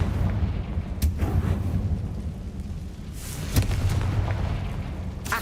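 Booming rumbles and sharp cracks of a fire spell explosion in the Hogwarts Legacy video game, a dense, loud low roar with a few sudden bursts, no speech.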